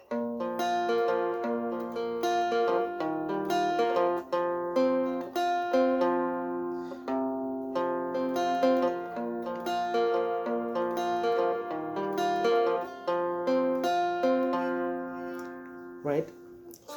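Acoustic guitar strums and picks the chords of a song in a steady repeating pattern, close and clear with no voices over it.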